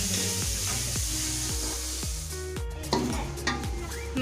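Chana dal roasts in a pan with steady sizzling as a spoon stirs and scrapes, with repeated clinks of metal on the pan, close and continuous.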